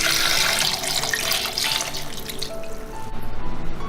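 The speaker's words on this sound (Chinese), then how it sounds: "加入适量清水" Clean water pours steadily from a tap into a cooking pot, a continuous splashing gush with the pitch rising slightly as the pot fills, close and alone without talk.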